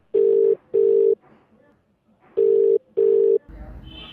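A telephone rings in two pairs of loud, steady electronic double rings with a short gap between the pairs, followed by a low rumble of background noise.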